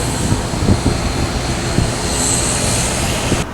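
Steady roar of IndiGo airliner engines at an airport, a continuous broadband rumble and hiss that stays loud and even throughout, with no voices over it.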